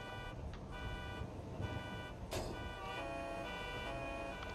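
A car alarm in the video game GTA V keeps sounding with repeating electronic tones over a constant background drone, a couple of sharp thumps from punching cars breaking in partway.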